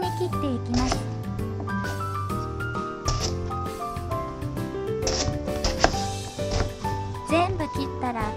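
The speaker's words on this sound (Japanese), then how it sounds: "ヘタ、ガクを切ったら一口サイズに乱切りに切っていきます。" Quick knife strokes chop eggplant into bite-size chunks on a cutting board in a steady run of cuts, with music playing in the background.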